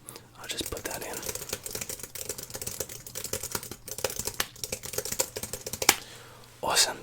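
Keys clatter on a computer keyboard in a quiet room, a steady run of close, soft clicks and taps lasting several seconds and ending with a louder final keystroke.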